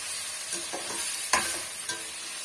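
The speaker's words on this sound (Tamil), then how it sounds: "இது ஓரளவுக்கு வதங்கி வர வரைக்கும் நம்ம வதக்கி விட்டுக்கலாங்க" Onion, garlic and chopped tomato sautéing in a pan for a okra tamarind curry, a soft steady sizzle with a few light stirring scrapes, no talking.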